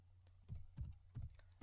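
Fingers type on a computer keyboard in a quiet room, producing three short, close bursts of soft key clicks spaced roughly evenly apart.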